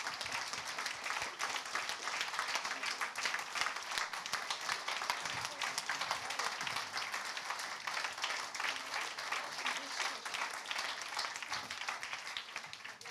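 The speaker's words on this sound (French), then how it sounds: "vous pouvez l'applaudir chaleureusement" Warm audience applause at a CFDT-Services union national council, a continuous, even roar of many people clapping from a distance, holding steady throughout without speech.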